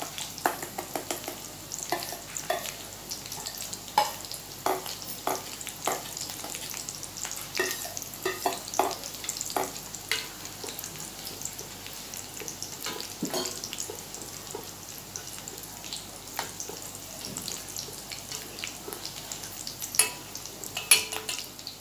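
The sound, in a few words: rice cooking in boiling milk, stirred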